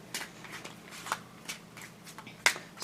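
Tarot cards being shuffled by hand during a reading, a soft riffling texture with a few sharper snaps, quiet and close with no talking.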